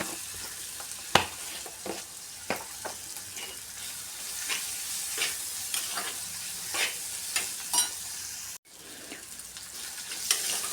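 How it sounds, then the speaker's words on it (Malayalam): Bitter gourd with turmeric sautés in a pan, with a low continuous sizzle broken by repeated scraping stirs at an uneven rhythm, close and moderately quiet. "അതൊന്ന് ഇട്ട് നല്ലപോലെ വാട്ടി കൊടുക്കണം."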